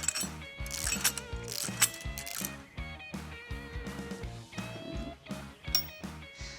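A ratchet snugging caliper bracket bolts during a suspension lift on a Cummins Dodge Ram truck, giving close, loud bursts of rapid clicking in an uneven rhythm with short pauses between strokes.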